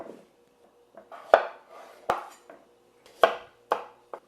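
A knife slicing washed baby potatoes in half on a cutting board, with about eight sharp, close chops that come unevenly and separately, each with a brief scrape, and quiet pauses between them.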